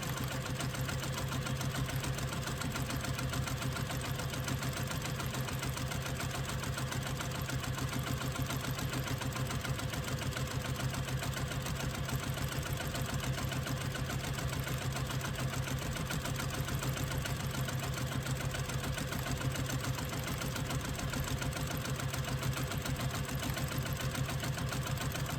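Sewing machine running continuously at speed while stitching a strap for a retro clutch with a quarter-inch seam allowance, an even, rapid mechanical whir and needle clatter sustained for the full length with no talk.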